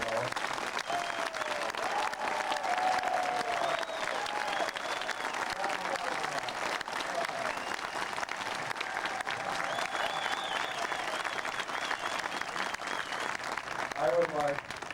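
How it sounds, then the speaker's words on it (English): Sustained audience applause fills the air at a concours and historic races gathering in Monterey, a dense steady wash of many hands clapping from a crowd, with a voice faintly heard through it. "I would like you to give them an enormous round of applause."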